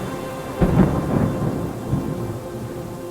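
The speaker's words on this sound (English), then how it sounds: "I look to the sky, the rain's rhythm changes" Rain falls steadily with a deep rumble of thunder rolling through early on, then fading under the continuing wash of rainfall.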